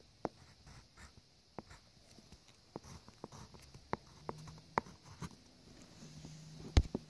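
A Crayola crayon writes a name on paper in quiet, scattered scratchy taps and short strokes, faint and close, with brief louder bumps near the end.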